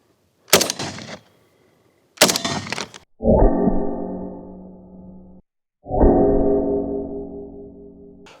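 An AK rifle fires 5.45 mm PS combat rounds at a ceramic armor plate: two loud, sharp shots a second or two apart, then two long ringing tones that slowly decay, with a short silence between them.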